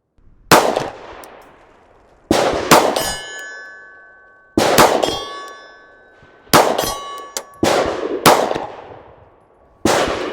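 Six sharp pistol shots from a Glock 43X fired at steel targets about 45 yards out, spaced roughly two seconds apart, several followed by a bright ringing clang from hit steel.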